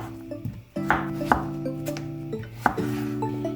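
A knife cuts zucchini into thin strips on a cutting board, several close, crisp chopping strokes at an uneven pace with faint clinks of kitchenware.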